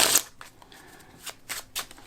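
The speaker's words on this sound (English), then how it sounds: "But one guy shuffles the cards kind of like this." A deck of playing cards is shuffled by hand for five card draw poker, giving a crisp riffle burst followed by a few quieter flicks and snaps up close.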